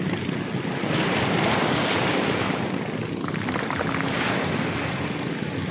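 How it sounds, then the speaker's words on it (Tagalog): Strong ocean waves surge and crash continuously at a beach, a loud, dense wash of surf mixed with wind buffeting the microphone, with no talking. "super lakas talaga ng alon, eh."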